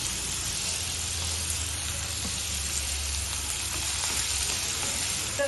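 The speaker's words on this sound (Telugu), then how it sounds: "ఇదిగో క్యారెట్ వేస్తున్నాను, ఉల్లిపాయ వేడిపోయింది, బీట్రూట్ వేస్తున్నాను." Carrot and beetroot sizzling in a hot pan with onions and turmeric on the stove, a steady, dense, close hiss that stays even throughout with no talk.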